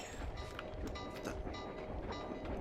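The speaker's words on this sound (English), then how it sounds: "that was just a train" A train rumbles steadily past in Sly 2: Band of Thieves, a dense, continuous roar with rhythmic clattering running the whole time at a constant, fairly loud level, with no voices over it.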